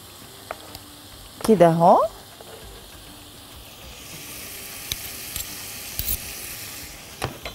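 Minced garlic hits a hot pan with a loud burst of sizzling, settling into a steady, softer fry; someone speaks briefly over it.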